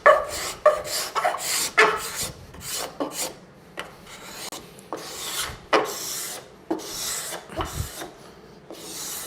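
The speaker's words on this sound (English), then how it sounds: "Now you could hard scrape it a little smoother, which would give you less to do later." Hand scraper drawn along a wooden edge of a bandsaw-cut curve, a series of short, rasping strokes in an irregular rhythm, close and fairly loud with brief pauses between them and no talking.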